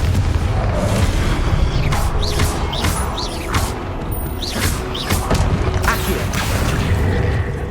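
A Confringo fire spell in Hogwarts Legacy bursts through loud combat, with repeated booms, crashes and whooshing streaks in an irregular rhythm, dense and close from start to finish.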